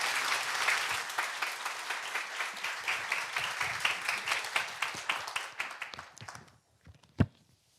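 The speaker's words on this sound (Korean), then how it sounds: "우리 목사님 큰 박수로 맞이하겠습니다" A church congregation claps loudly to welcome a visiting pastor, a dense burst of many hands that thins out toward the end, leaving a few scattered claps and one final sharp clap.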